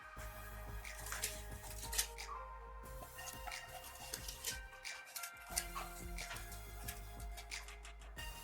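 Water coming to a boil in a cooking pot before rice goes in for carrot kheer, a faint, irregular run of small pops, ticks and drips, close by with no talking.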